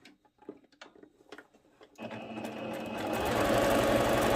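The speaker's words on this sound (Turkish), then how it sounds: "lastiğin ortasından bir dikiş daha gideceğim" A sewing machine runs a stitch down the middle of the elastic waistband on a two-piece skirt, starting after a few soft handling taps and clicks and then droning continuously, steady and close, with no talk.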